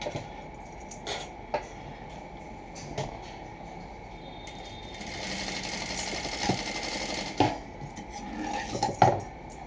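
A sewing machine stitching plain blouse pieces runs in short bursts, its rapid mechanical whirr rising and falling, with clicks and handling sounds between runs and no talking.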